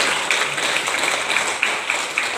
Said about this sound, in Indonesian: Jadi Bapak Ibu tepuk tangan untuk guru-gurunya.